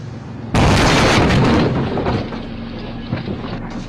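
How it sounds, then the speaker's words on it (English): A car slams into parked patrol cars and a Mustang with a sudden loud crashing impact, followed by a sustained roar of scraping and debris that gradually fades. "Someone just struck our patrol cars and the Mustang."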